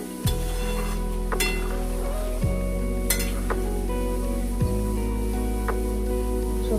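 Spices (cloves and dried red chilli) and vegetables are stirred in a hot pan, giving a steady loud sizzle throughout, broken by a few scraping clinks of the spoon against the metal.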